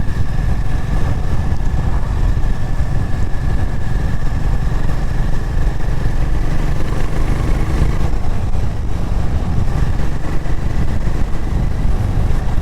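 A motorcycle engine roars steadily while being ridden, a loud, continuous, close drone mixed with rushing wind noise that holds the whole time.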